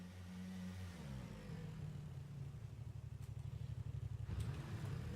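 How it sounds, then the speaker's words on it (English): Motorcycle engine in PlayerUnknown's Battlegrounds rumbling low and fairly faint at a distance, its pulsing idle growing steadier and slightly louder as it revs, with no talk over it. "Motorcycle"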